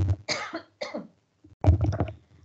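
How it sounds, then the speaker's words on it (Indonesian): Several coughs from a person who has been talking for a long time, in a lecture setting: a cluster of harsh bursts, a pause, then a louder closing cough, fairly close. "sudah ngomong lama jadi terus batuk-batuk"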